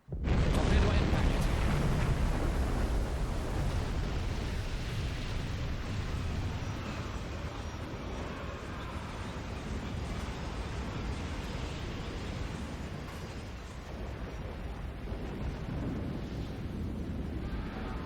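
A torpedo strikes a ship in the naval submarine game Silent Hunter 5, set in the Battle of the Atlantic: a loud, sustained rumbling blast that swells at once and rolls on as a dense roar for many seconds, with no voices over it.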